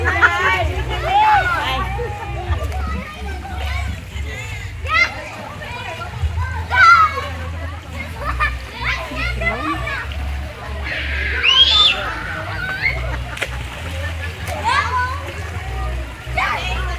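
Children splashing and playing in cold pool water at Glen Geneva, steady splashes and watery churn mixed with lively kids' voices and chatter, near and continuous throughout.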